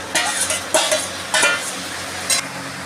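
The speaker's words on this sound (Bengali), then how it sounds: "এবার এগুলোকে আমরা ভালো করে ভেজে নেব।" Fried onions stirred in a pan with ginger, garlic and tomato paste for a mutton dish: a continuous sizzle broken by four or five short scraping stir strokes, close and moderately loud, no voices.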